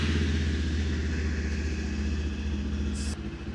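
A Lifan KPT 400cc two-cylinder adventure touring motorcycle engine idles steadily up close, a deep, even low rumble with regular pulsing strokes, holding constant with a brief hiss near the end.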